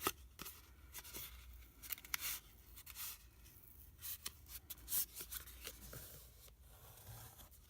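Cardstock being folded and creased into concertina pleats for a half cracker box: soft, close paper rustles and sharp creasing scrapes come in irregular bursts, faint and without talk.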